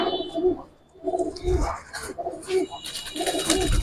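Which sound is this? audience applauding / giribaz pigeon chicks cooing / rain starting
giribaz pigeon chicks cooing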